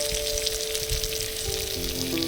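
Turmeric, chili powder and vegetable masala sizzling in a pan, a dense steady frying hiss heard close and continuous, with a faint tonal hum underneath and no talking.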